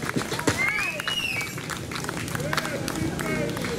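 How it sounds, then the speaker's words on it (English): Live band show audience in Scotland Neck clapping for the band, a continuous patter of applause and crowd noise with voices mixed in over it. "a little round of applause"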